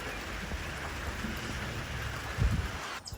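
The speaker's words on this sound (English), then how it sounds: "It's just like a nice steady rain." Steady, gentle rain patters across a freshly sown soybean and buckwheat food plot, a soft even hiss with a few heavier nearby drips near the end.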